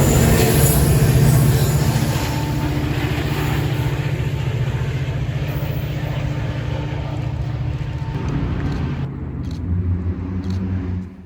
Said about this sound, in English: Metra runs a good amount of inbound reverse commuter trains as well, as seen here with this one with F40 PHM